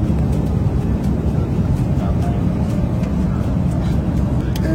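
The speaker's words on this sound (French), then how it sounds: "On est dans l'avion avec Johan, on est assis à côté." Steady broadband roar of an airliner cabin during a short flight to London, loud and constant throughout with no clear voices over it.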